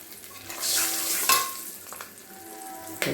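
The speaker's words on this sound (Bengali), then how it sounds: "এই যে মশলাটা একটু ভেজে নিলাম" Spices sizzle in hot oil in a pan while being stirred for a vegetarian banana-flower dal, a close, steady frying hiss with soft scraping and a couple of light clinks of the spoon.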